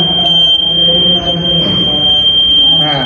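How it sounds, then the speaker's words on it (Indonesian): A gas leak detector's buzzer sounds a steady, loud, high-pitched tone for the whole stretch, with faint background noise underneath. "otomatis akan ada buzzer yang membuat sebuah peringatan"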